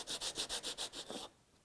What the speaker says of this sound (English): This is where I'm going to use the jointing or the scuff sanding block.